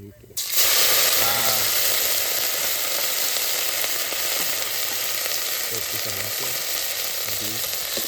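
Chili and ginger paste hitting hot oil in a pan, a loud sudden hiss that settles into a steady close sizzle, with brief voices talking over it now and then.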